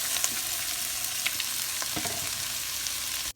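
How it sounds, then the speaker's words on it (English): Onions and carrots sautéing in a soup pot, a soft steady sizzle with a few light clicks of a utensil stirring, close and fairly quiet, no voices. "we're going to start off sauteing the onions"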